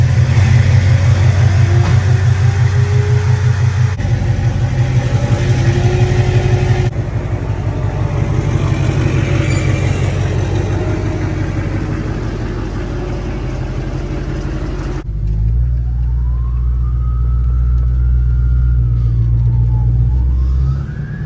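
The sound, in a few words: Duramax truck engine on test drive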